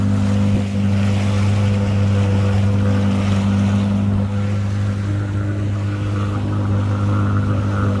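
A motorboat engine drones loudly and steadily on a sea trip from the port of Tamentfoust toward Sidi El Hadj beach near Bordj El Bahri, Algeria, its deep humming tone unbroken for the whole stretch with no voices.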